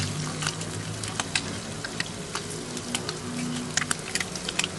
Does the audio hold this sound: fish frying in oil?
yes